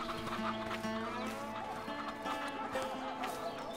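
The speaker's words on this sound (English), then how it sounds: "A flying chicken." A chicken clucks repeatedly in the video game A Way Out, a string of close, quiet fowl calls over faint background sound.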